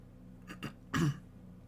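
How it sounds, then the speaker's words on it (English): A man clears his throat once, a short rough burst close to the microphone preceded by two lighter throaty catches, against a quiet room background. "Sorry for clearing my throat."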